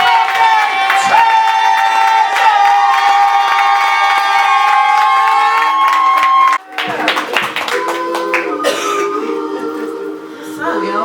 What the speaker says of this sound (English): Clap it up right now.